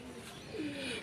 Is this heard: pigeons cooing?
yes